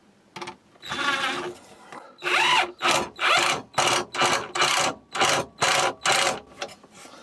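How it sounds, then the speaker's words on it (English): A power drill driving screws into scrap wood for a side table build, with several short whirring bursts in a stop-start rhythm, close and fairly loud. "drive some screws in"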